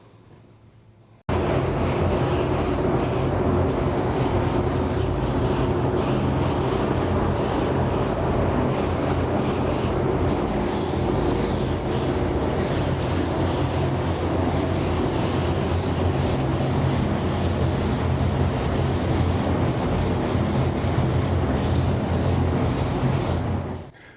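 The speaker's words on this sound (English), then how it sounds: "I'm going to start spraying Darth and his buddy IG-11" A spray paint can hisses in one long, steady, loud burst for over twenty seconds while coating Darth Maul and IG-11 figures black, broken only by brief pauses near the start and end.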